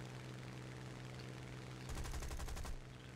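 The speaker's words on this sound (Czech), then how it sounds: "Boční střelec střílí ještě." A rapid burst of machine-gun fire from a bomber's side gunner in War Thunder rattles for about a second over a constant engine drone, then stops while the drone carries on.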